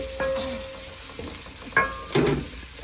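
Onion, garlic, sweet peppers, tomatoes and carrots sautéing for a coconut bean stew, a soft steady sizzle with a few stirring scrapes and clinks of a utensil in the pot.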